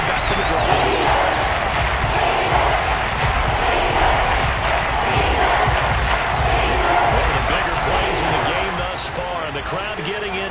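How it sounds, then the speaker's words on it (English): A football stadium crowd roars steadily as the game builds toward a big third down, a dense, loud wash of cheering and shouting that holds for several seconds, with an announcer's voice over it. "The crowd getting into it as we come up on a big 3rd down."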